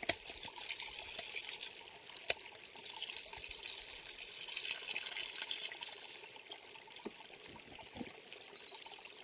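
Stream water trickling and dribbling steadily through a Sawyer Squeeze filter on an overnight hike near Hendrickson Lake, Utah; a soft, continuous, close-up flow with no talking.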